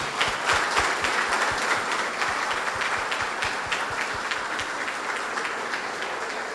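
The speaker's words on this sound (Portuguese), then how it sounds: "E uma calorosa salva de palmas para as nossas mulheres." Warm, sustained applause from a church congregation at the opening of a parenting course, a dense wash of clapping that fades slightly toward the end.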